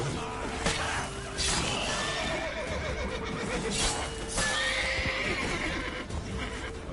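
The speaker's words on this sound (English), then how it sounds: "the horse just kicked the hell out of me" Horse neighing in The Witcher 3 game, a whinny rising over steady background game ambience with hoof and impact noises, fairly loud and continuous.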